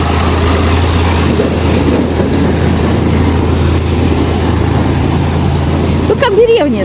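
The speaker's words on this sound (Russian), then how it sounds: "Сейчас трактор убирающийся проедет." A street-cleaning tractor drives past on a village street in the Kızkalesi resort in southeastern Turkey, giving a loud, steady engine rumble and road noise throughout, with a voice briefly heard near the end.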